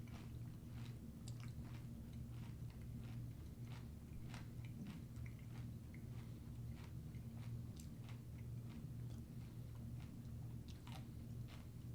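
Chewing a mouthful of Kind dark chocolate almond cereal with big almonds, giving steady close crunching and biting bursts over a constant low background hum, with no talk.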